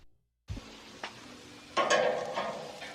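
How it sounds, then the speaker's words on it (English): Zucchini sautéing in a pan with salt, pepper and a little teriyaki gives a soft, close sizzle. Occasional stirring scrapes come in short bursts after a moment of silence. "I just sauteed the zucchini, put on a little salt and pepper, a very small amount of teriyaki to finish them up"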